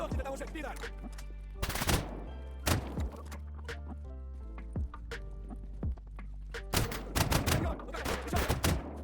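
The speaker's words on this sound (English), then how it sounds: "You can also shoot this soldier guarding the exit through this gap." Gunfire in S.T.A.L.K.E.R. Anomaly rings out in sharp, loud single shots and short rapid bursts aimed at a soldier, spread across the scene with brief quieter gaps and a heavier volley near the end.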